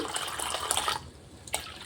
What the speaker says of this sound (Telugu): ఇంకొద్దిగా వాటర్ పోసేసుకుంటాను